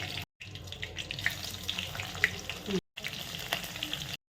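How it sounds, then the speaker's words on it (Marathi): Cumin, mustard seeds and curry leaves fry in hot oil for a dhaba-style potato and spinach dish, giving a steady close sizzle with scattered crackles, broken by two brief silent gaps. "इथं तेल टाकून घेतलंय मी चला इथं जिरे मोहरी आणि कढीपत्ता छान फ्राय करून घेतला"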